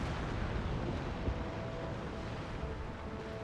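Naval guns fire at an enemy ship in a Dutch warship combat game, a dense, continuous wall of booming rumble and roar with no pauses, loud and close throughout.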